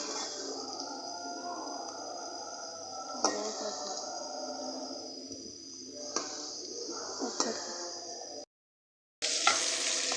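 Onions frying in a handi pot give a steady, close sizzle, with a few sharp clinks of a spoon against the pot scattered through it, then a brief cut to silence before the sizzle resumes.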